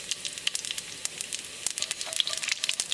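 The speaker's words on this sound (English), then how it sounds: "As the oil starts to heat up, add cumin seed, jeera." Cumin seeds sizzle in hot olive oil in a kadai on a stovetop burner, a close, crackly, continuous fry with irregular pops and no talking.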